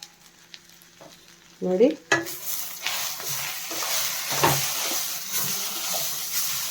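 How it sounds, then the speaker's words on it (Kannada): Mint leaves frying and being stirred in a pan for chutney, a steady sizzle with scraping stirs and a louder clatter near the start, continuing throughout; a voice speaks briefly. "ಇದನ್ನು ಸ್ವಲ್ಪ ಫ್ರೈ ಆಗಬೇಕು. ಇದರಲ್ಲಿರೋ ನೀರಿನ ಅಂಶ ಎಲ್ಲ ಹೋಗ್ಬಿಡ್ಬೇಕು."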